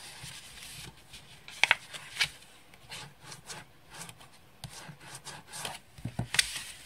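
A stylus burnishes the folds of a paper envelope made on a punchboard: faint, short rubbing and scraping strokes in irregular bursts, close up and quiet.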